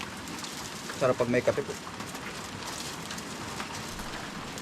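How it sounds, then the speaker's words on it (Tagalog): Steady rain patters in the background as a person speaks briefly, the downpour continuing evenly throughout. "Lalo lang umulan no?"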